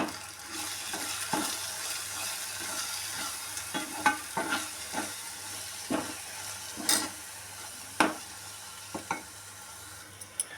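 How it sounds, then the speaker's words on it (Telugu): Coriander powder and chili powder being stirred in a frying pan for a drumstick curry: a soft steady sizzle with scraping stir strokes every second or so, close and alone. "కాస్త ధనియాల పొడి, కాస్త కారం వేసి మొత్తం మిక్స్ చేసుకోవాలి."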